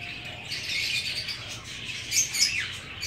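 Pet parrots chirping and tweeting in a home aviary, scattered bright calls at moderate distance, fairly soft, with a couple of sharper chirps near the end and no talk.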